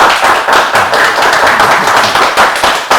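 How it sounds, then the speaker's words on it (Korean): A church congregation in New York applauds to welcome a new English-ministry pastor, with loud, dense, continuous clapping from many hands filling the sanctuary throughout. "우리 박수로 환영하겠습니다"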